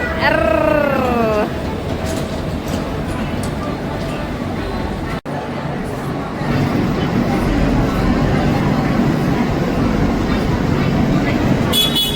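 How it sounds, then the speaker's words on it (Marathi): A train rumbles along with a steady rolling roar, a horn tooting briefly at the start, and voices talking throughout. "आता डुप्लिकेट ट्रेनमध्ये फिरतो."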